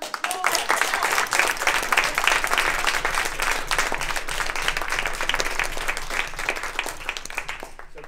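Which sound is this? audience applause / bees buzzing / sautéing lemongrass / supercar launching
audience applause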